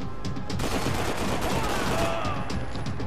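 Sustained gunfire from the video game Max Payne 3, a dense rapid burst emptying a full magazine, loud and close, continuous for a few seconds with game sounds layered underneath.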